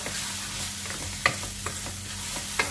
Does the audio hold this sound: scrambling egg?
yes